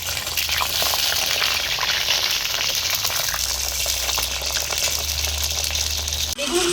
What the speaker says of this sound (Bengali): এবার আমি বেগুনগুলো ভেজে